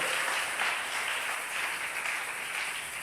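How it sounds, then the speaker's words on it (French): A church congregation at a Sunday service claps and applauds loudly for the Lord, a dense, sustained wash of many hands filling the room, close and continuous without a break. "On acclame très fort pour le Seigneur"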